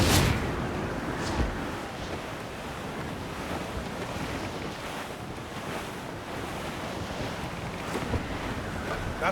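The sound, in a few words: strong wind and sea waves in Assassin's Creed Black Flag video game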